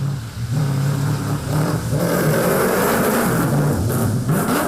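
A Toyota Hilux engine revs hard at a muddy river crossing during an endurance race, loud and close, with the pitch rising and falling in sustained surges and no talk.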